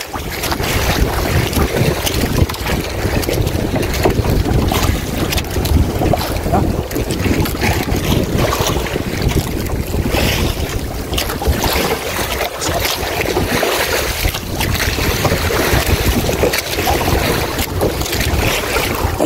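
Strong wind buffets a small fishing boat at sea, a loud, continuous roar of gusts and rushing water over the microphone, with no clear talk.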